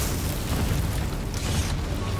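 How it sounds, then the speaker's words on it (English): A battleship blowing up in the Battleship video game on PlayStation 4, a loud rumbling blast that roars on without a break, heavy and close. "No, I sunk his battleship."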